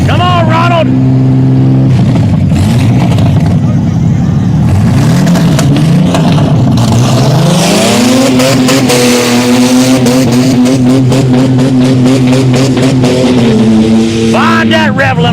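Mud bog truck engine at a deep-mud racing event, revving hard and holding near the rev limiter with rising and falling pitch across runs, loud and close, with a commentator talking over it.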